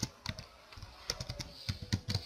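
Keys tapped on a computer keyboard in short irregular bursts, close and fairly quiet, with no talk.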